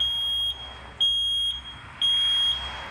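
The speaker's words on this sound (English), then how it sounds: "Smoke detectors are very, very important to have." A smoke detector alarm sounds in three loud, piercing electronic beeps, each lasting about half a second and spaced evenly about a second apart, with no voices present.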